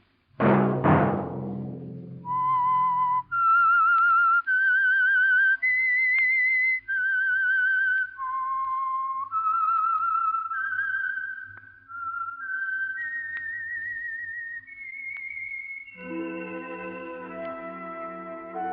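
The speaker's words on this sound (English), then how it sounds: "Let that whistle be your signal for the Signal Oil program, The Whistler" A lone melodic whistled theme for The Whistler radio mystery program, sustained notes rising and falling in a slow tune after a brief opening chord, then an orchestral chord at the end.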